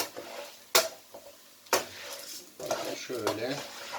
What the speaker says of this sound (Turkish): Şimdi 7-8 dakika kadar pirinçlerimi bu şekilde kavuracağım.